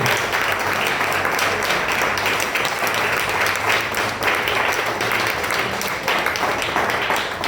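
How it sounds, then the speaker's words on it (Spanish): Steady, dense applause from a church congregation fills the whole stretch, loud and continuous without pause. "Den un aplauso al Señor, hermano. Pero aplauso fuerte."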